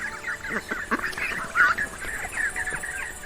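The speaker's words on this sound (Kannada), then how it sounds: "ಆ ಬಾತುಕೋಳಿಗಳ ಗ್ರೂಪ್ ಅಲ್ಲಿ ಬರುತ್ತೆ" Waterfowl quack and honk repeatedly in a steady, chattering flock, calls overlapping at moderate volume.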